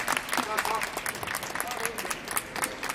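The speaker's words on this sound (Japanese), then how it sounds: "ジーツインズの皆さんに大きな拍手をお送りください。" Audience applause for the comedy duo G-Twins, steady mid-level clapping from a crowd throughout, with a voice speaking over it.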